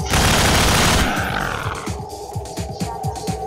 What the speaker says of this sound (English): Right on, got me a machine gun.